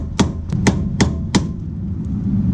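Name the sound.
tapping a suspension bushing out with a piece of scrap steel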